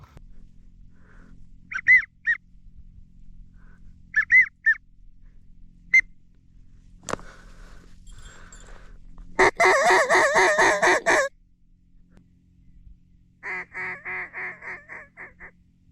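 Geese honking in the open Alaskan wetland during a duck hunt, a few short separate calls at first, then a loud sustained burst of clamouring honks, and a final cluster of repeated honks at moderate distance.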